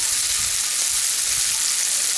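Testicles fry in a pan in a workshop kitchen. A dense, even sizzle crackles on without a break, close and fairly loud, and no voice is heard over it.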